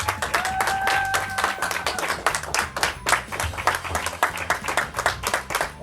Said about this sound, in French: Et on acclame Jésus.